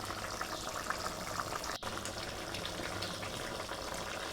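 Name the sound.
egg masala curry gravy coming to a boil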